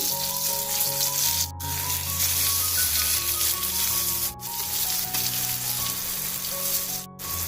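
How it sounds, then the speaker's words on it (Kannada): Slices of brinjal fry on a tawa, a dense, steady sizzle that runs almost unbroken and stays fairly loud throughout. "ಈಗ ಇನ್ನೊಂದು ಸೈಡ್ ಕೂಡ ಚೆನ್ನಾಗಿ ಫ್ರೈ ಆಗಲಿಕ್ಕೆ ಬಿಡ್ತಾ ಇದ್ದೀನಿ."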